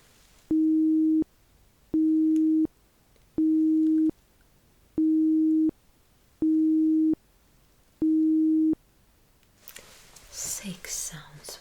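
Six identical steady beep tones from a hearing test, each about half a second long and evenly spaced, clean and distinct over near silence, followed by soft whispered talk.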